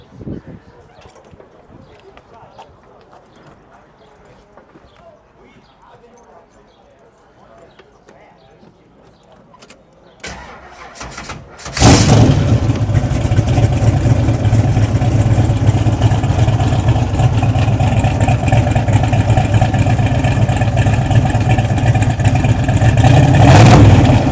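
A 1969 Camaro's 502 big-block engine with twin carburetors, about 800 horsepower, cranks and roars to life, then idles loud and rumbling with steady revving, close by, after a quieter stretch of faint background noise.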